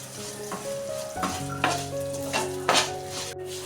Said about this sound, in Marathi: तीळ असे आपल्याला परतून घ्यायचे हे तुपामध्येच परतलेली आहे